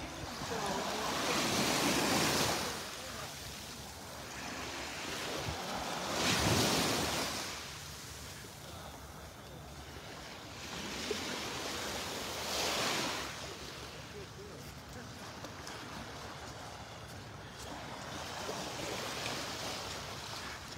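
Ocean waves breaking on the beach at Delnor-Wiggins, slow rolling surges of surf every few seconds, close and fairly loud, with wind noise buffeting the microphone between swells.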